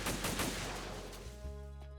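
Gunfire in Metal Gear Solid 2: Sons of Liberty: a rapid burst of shots crackling over the first second, then giving way to sustained tonal game sounds, all fairly quiet.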